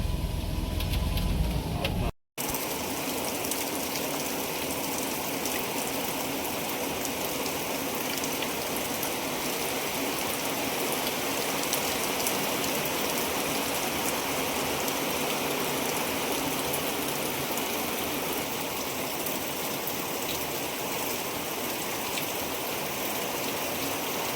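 Heavy rain during a Diva–Ratnagiri passenger train journey in the Konkan monsoon, a dense, steady roaring wash of rain and water that continues throughout after a brief cut near the start.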